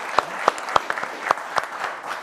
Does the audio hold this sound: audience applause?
yes